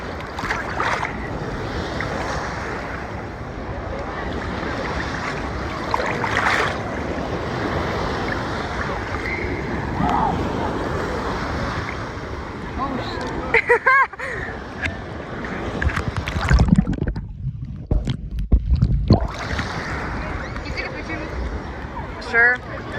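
Beach waves surge and crash in rough surf, a constant washing roar with wind noise, while people talk and exclaim over it and splashing bursts near the end.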